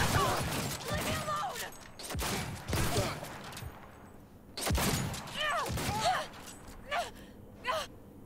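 Gunfire in Cyberpunk 2077, heard as a series of sharp, loud shots in irregular bursts with quiet gaps between them, some closely spaced and others single. Short strained vocal sounds mix in with the shots.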